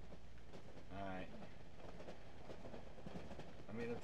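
Steady low rumble of a train rolling along in the horror game Cry of Fear, continuous and moderately loud, with brief voice-like sounds mixed in.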